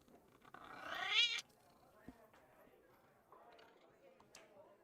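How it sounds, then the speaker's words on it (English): A house cat gives a loud, drawn-out meow close by, followed by quieter intermittent mewing and small sounds under faint background voices. "I don't know if you can hear it, but my cat's meowing a bunch."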